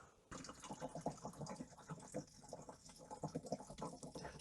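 Fuel draining from an old Buddy 50 scooter's tank, a faint, continuous trickle and gurgle of liquid running out with small uneven spurts.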